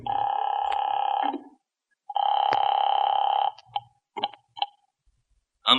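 An old telephone in a radio drama plays a dial sequence: two long steady tones, then several short clipped beeps and clicks, close and clear with no talk.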